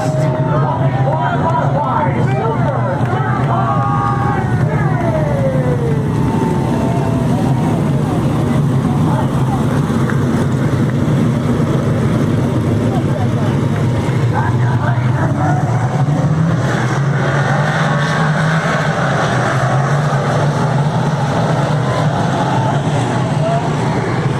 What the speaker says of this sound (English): we salute you with Big blocks, 4 wide, ground-pounding, earth-shaking, window-rattling beast of the Northeast